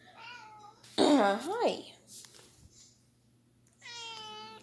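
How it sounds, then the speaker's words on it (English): A pet cat meows close by, a short meow at the start and a longer one near the end, with a person's brief excited greeting and other vocal sounds in between. "Yeah, that's my cat."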